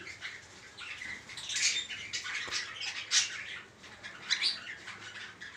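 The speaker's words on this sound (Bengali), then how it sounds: "এই হলো আমার একটা ছোট্ট পাখি সেটা। এই হলো ককাটেল।" A cockatiel calls with short chirps and squawks, fairly faint, in a quiet room.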